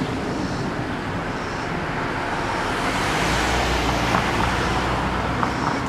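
A car approaches from behind on a road, its tire and engine rumble swelling gradually within steady traffic noise, with no talking.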